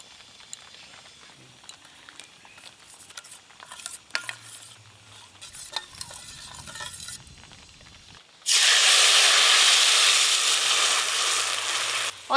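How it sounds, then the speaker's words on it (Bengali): Black cumin seeds hit hot oil with a sudden loud, steady sizzle that fills the kitchen after quieter stirring and clinking, tempering the base for a Bengali hilsa malai curry. "ইলিশ মাছের মালাইকারির জন্য কালো জিরে ফোড়নে দেব"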